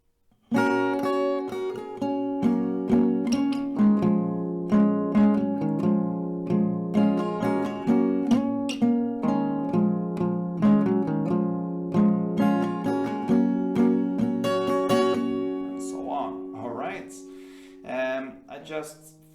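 Acoustic guitar playing a song intro at standard tempo, strummed chords ringing steadily and close for about seventeen seconds, then a few softer plucked notes at the end.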